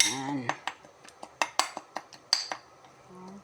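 A container of bagoong (fermented fish paste) is tapped to shake the paste out while cooking vegetable denengdeng: about a dozen sharp, close clinking knocks in an uneven rhythm, with a voice at the start and end.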